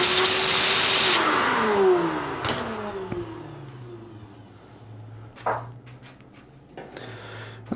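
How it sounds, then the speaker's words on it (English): A vacuum cleaner sucks metal shavings out of a locked toy vending machine, starting loud then fading into a lower hum with a few sharp clatters and knocks. "I should probably vacuum it out again. That way we're not getting all those metal shavings caught up."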